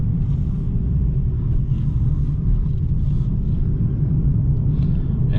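Steady low rumble of a 2015 Nissan 370Z base coupe with a 7-speed automatic while driving, the engine drone and road noise holding even and continuous throughout with no talking.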